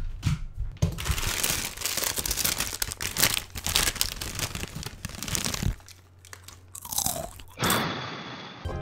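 Loud, close-up chewing and crunching of food, with steady wet bites and crinkly crunches that run almost continuously, then a short lull and a final burst, with no voices.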